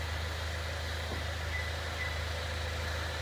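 A car engine idles steadily after a remote start, with a low, even hum and faint mechanical whir, no voices.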